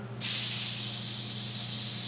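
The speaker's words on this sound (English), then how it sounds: "So my sprayer is turned right down, and I'm going to pull the trigger." A Graco SaniSpray HP 130 sanitizer sprayer, set to low pressure, gives a steady, loud hiss that kicks in after a brief pause and runs continuously, with a faint low hum underneath.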